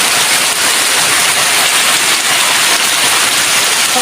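Rain falling on a house under construction, a loud dense steady hiss of downpour throughout with no break and no talking.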